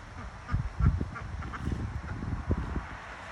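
Cranky ducks quacking beside a dry irrigation ditch after rain, a run of close, uneven quacks and honks over outdoor background noise.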